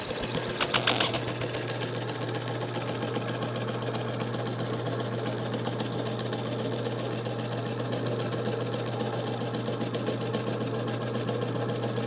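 A sewing machine runs steadily, stitching fabric for a honeybee hive cover cloth, with a continuous fast mechanical whir and hum, close and even throughout, with no talking.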